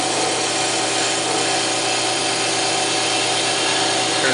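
A wood lathe spins material chucked up for turning down into a mandrel, a steady loud motor whir and hum with faint cutting rasp running without pause.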